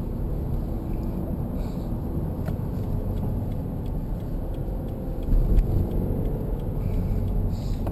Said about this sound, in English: Nice smooth revving, horizontally opposed engine.